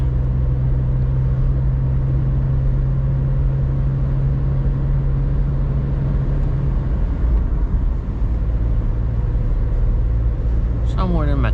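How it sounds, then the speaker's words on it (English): Steady in-cabin drone of a VW Up 1.0 60hp engine during a night drive, loud and continuous, with a change in engine pitch partway through as gears are switched. "RPM, we're switching gears, almost at speed limits."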